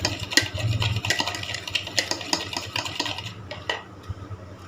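Egg paratha mixture being stirred in a bowl with salt and crushed chili, giving repeated clinking and scraping strokes of a utensil against the dish, steady and close, with no talking.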